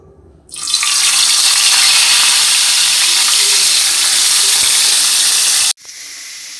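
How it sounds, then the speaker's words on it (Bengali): Bata fish coated in salt and turmeric hits hot oil with a sudden loud sizzle that holds steady and intense for about five seconds, close up, then cuts off abruptly. "তাই যে বাটা মাছ লবণ হলুদ মাখিয়ে নিয়েছি, এখন ভেজে নেব।"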